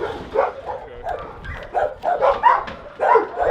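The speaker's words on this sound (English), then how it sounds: "He's a great dog." A dog gives a run of short, close barks and yips in uneven bursts, each spaced by brief gaps, fairly loud and with no talking over it.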